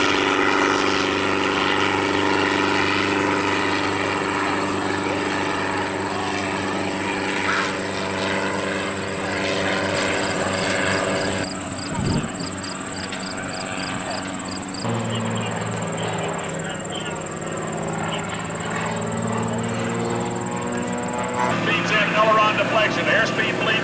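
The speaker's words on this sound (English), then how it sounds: "The airplane stops, pins against the sky, and he torque rolls back down, falling, turning the airplane into a helicopter" An aerobatic airplane at an airshow performs a torque roll, its engine droning steadily and loud throughout with shifting pitch, while a commentator talks over it.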